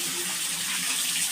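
Water runs steadily in a bathroom while a fish container is rinsed, a constant close hiss of flowing tap water.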